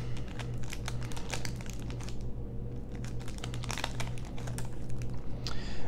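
A Dragon Ball Super Card Game Cross Worlds special pack being cut and opened, with dense crinkling, crackling foil wrapper and sharp snipping ticks close up, continuous and fairly loud with no talking.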